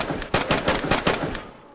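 Rapid gunfire in the survival video game DayZ, a burst of about a dozen loud, close shots in quick succession that trail off at the end, with no talk.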